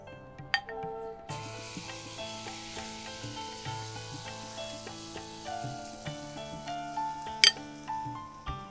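Food frying in hot oil during a traditional Bengali monsoon-season cooking show, with a steady sizzle running throughout beneath background music and occasional sharper clicks.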